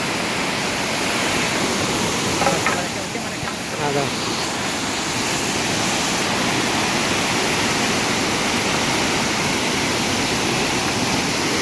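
Khaiyachara waterfall pours down in a loud, dense, unbroken roar of falling water heard up close. Voices break in briefly partway through.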